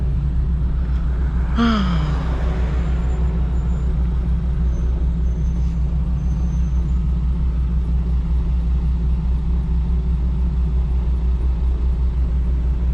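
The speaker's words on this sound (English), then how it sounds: "the straight pipe is really not loud and obnoxious like that during normal driving" A Nissan 370Z with a straight pipe exhaust cruises at steady speed, a constant deep droning rumble heard from inside, with one brief rising rev early on.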